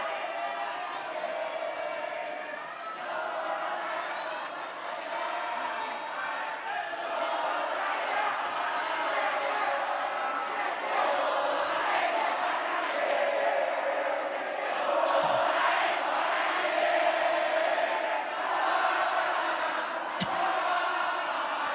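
At a West Java gubernatorial election debate, an audience gives a sustained round of applause and cheering for a candidate pair, a dense, moderately loud crowd roar with clapping that holds steady throughout.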